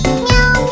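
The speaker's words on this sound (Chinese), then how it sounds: "小猫咪，小猫咪，喵喵。" A cartoon cat meows twice in a short, bright, close call inside a children's song, with the music behind it.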